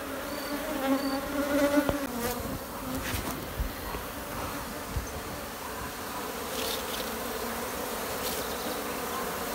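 A swarm of bees buzzes steadily around a nest built inside old tyres outdoors, a dense, continuous drone close by with occasional louder passes and faint handling knocks.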